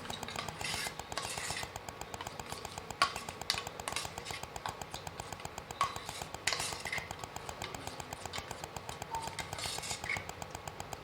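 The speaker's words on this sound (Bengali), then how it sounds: "ভালোভাবে মিলিয়ে নেব।" A spoon scrapes and clinks around a bowl, mixing ingredients with raw mustard oil for an egg bhapa in a quiet, fairly faint, steady rhythm of taps and rubs, with no voices.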